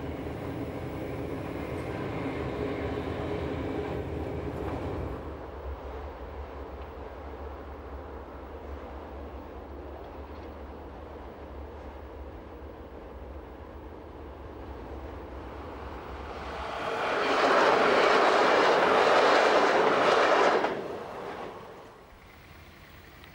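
A train runs along the Emmental railway in Switzerland: a steady rolling rumble, then a louder, brighter roar as it passes close, before the sound drops away again.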